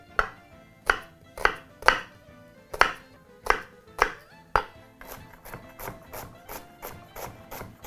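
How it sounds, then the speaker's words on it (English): Knife chopping white onion on a cutting board: about eight sharp, evenly spaced chops, loud and close, then a quicker run of lighter, softer chops, with no talking. "we'll proceed to chop up some white onion"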